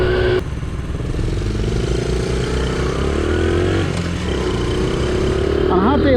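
A Honda Trail CT70 motorcycle with an air-cooled engine being ridden on a hot day, producing a steady, close, mid-pitched drone that climbs gradually, with wind noise and someone talking over it.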